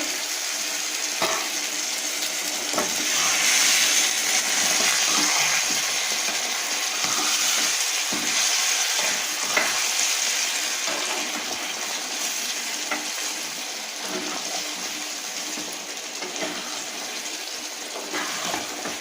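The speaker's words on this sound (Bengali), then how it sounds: "এবার আমি জলটা দিয়ে দেবো দিয়ে দিচ্ছি বেশি জল দেবো না" Water poured into simmering aloor dum (potato curry) in a pan: a steady splashing, sizzling hiss lasting the whole stretch, with occasional clinks and stirring and no talk.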